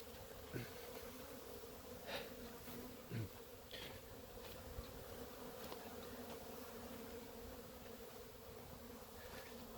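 Honey bees buzz around south-facing beehives on a warm winter day, a steady faint hum with several louder bees flying close past at intervals, with outdoor ambience behind.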